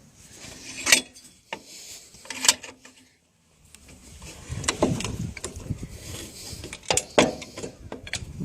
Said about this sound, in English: You gently press it in with the vise